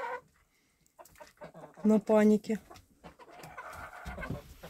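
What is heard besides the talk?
chickens clucking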